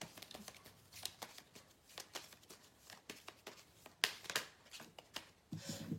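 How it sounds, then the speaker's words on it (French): Petit Lenormand oracle cards being shuffled by hand, a quiet run of crisp riffling flicks and soft slaps close up, with no talking. "on va aller tirer quelques cartes de l'oracle"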